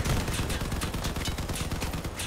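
Vehicle-mounted guns firing in the post-apocalyptic vehicle combat game Crossout, a dense, continuous barrage of loud rapid shots with heavy low-end thumps, with no pauses throughout.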